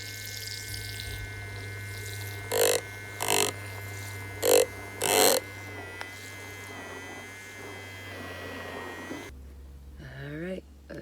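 An electric makeup brush cleaner whirs with a steady motor hum as it spins a brush, broken by four short, splashy bursts. The motor then cuts off near the end, where a voice is briefly heard.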